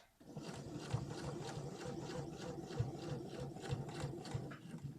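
A sewing machine stitches a tie-neck summer halter top with a quiet, rhythmic mechanical chatter of fast needle strokes and regular soft thumps, running steadily throughout without speech.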